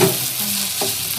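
Poha being gently stirred in a hot pan, a steady broadband sizzle of frying with soft scraping strokes running through the short stretch, close and fairly loud, no voices.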